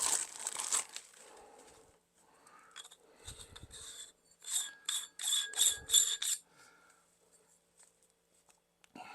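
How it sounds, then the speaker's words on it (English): Plastic packaging crinkles and rustles as a scope sunshade is unwrapped by hand, in short irregular bursts of crackling separated by quiet pauses. "Get it unwrapped here."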